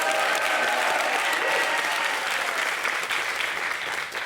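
A studio audience on a French television talk show applauds, a dense, steady clapping close by that fades slightly toward the end.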